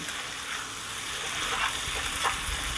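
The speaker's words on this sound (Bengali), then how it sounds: "আলু আর বেগুনটা একসাথে সুন্দর করে ভেজে নেব" Potato and eggplant frying together in oil in a pan, a steady close sizzle with soft crackles and occasional stirring, no voices.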